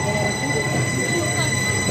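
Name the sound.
train at a station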